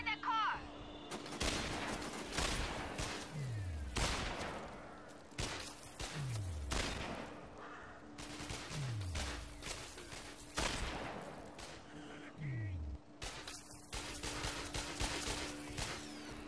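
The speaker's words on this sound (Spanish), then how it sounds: "la cadencia de disparo del Dragunov" Single loud Dragunov sniper rifle shots in the video game Sniper Ghost Warrior, fired at spaced intervals, each a sharp crack followed by a metallic clink of a falling casing.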